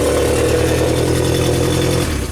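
The engine of a Genie boom lift runs steadily with a loud, close, even drone throughout, easing off slightly at the very end.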